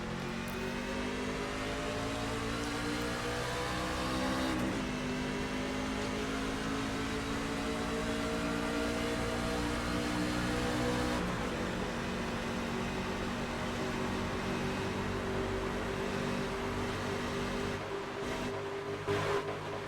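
Onboard engine roar of a NASCAR stock car at Talladega in a sim racing game, a loud, sustained high-revving drone with shifting harmonic tones and no talk.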